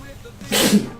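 A single sharp sneeze, close and brief, rising out of quiet room noise.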